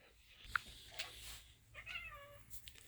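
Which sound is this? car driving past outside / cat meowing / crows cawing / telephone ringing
cat meowing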